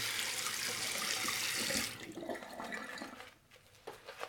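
Water trickles and splashes onto a shaving brush, a bright rushing hiss for nearly two seconds that then drops to softer wet dabbing and dripping sounds close by.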